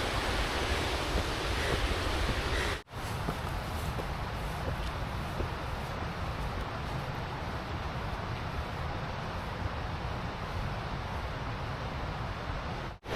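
Broad, steady rushing water from a waterfall or river on an Alaska mountain hike, a continuous roar close by with wind buffeting the microphone and one brief dropout.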